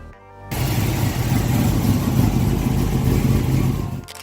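A Buick Stage 1 V8 muscle car engine from the mid-1960s bursts into a loud, deep rumbling run after a brief quiet start, holding steady before easing off at the end.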